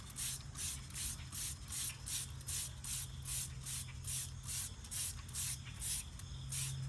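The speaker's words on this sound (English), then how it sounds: "I'm just spraying it on. It kind of foams up a little bit as soon as it starts hitting the dirt." Detergent hisses from a spray bottle onto a muddy aluminum bead lock wheel and its tire, in a steady rhythm of about a dozen quick bursts, close and fairly loud.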